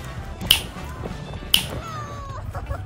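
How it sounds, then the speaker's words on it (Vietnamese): Two sharp finger snaps about a second apart, crisp and close, during a night campfire on a beach, with a cat meowing faintly between and after them. "Let's see if we can snap our fingers and have food appear."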